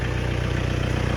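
A tractor engine runs close by with a loud, steady low rumble and an even, throbbing pulse, with no other sounds.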